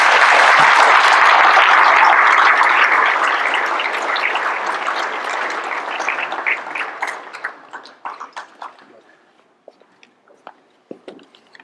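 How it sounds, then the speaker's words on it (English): Audience applause at a Hall of Fame induction banquet, a loud, dense roar of many hands that gradually thins out into scattered individual claps before fading to near silence. "So let's give him a round of applause."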